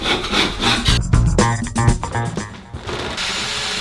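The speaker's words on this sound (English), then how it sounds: "then you can smooth it out with the trowel." A trowel spreads and smooths joint compound across a water-damaged plasterboard drywall ceiling repair, giving close, loud scraping and rubbing strokes in an uneven rhythm, with no one speaking.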